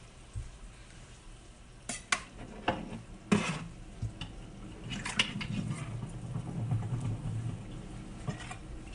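Spoon stirring seafood risotto with clams or mussels in a pot, a few sharp scrapes and clinks against the metal over a low, soft simmer, close and fairly quiet.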